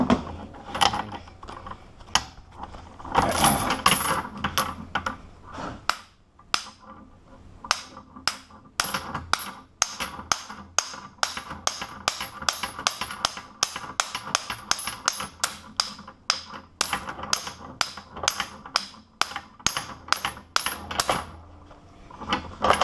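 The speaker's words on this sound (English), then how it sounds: "we can do this with a hammer" Repeated sharp metallic strikes of a hammer on a heavy trailer security chain lock, dozens of hits in quick irregular succession, loud and close, with a short pause early on.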